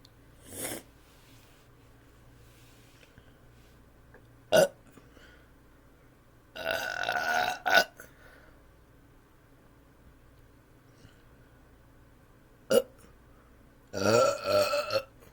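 Burps during a no-burping challenge: four loud throaty belches, two short and sharp and two longer and rattling, separated by quiet pauses, close to the microphone with no talking.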